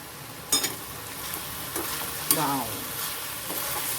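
Leafy greens with grated fresh coconut are stirred in a hot pan, a soft continuous sizzle broken by a few brisk spoon scrapes and clinks, close and unaccompanied by voices.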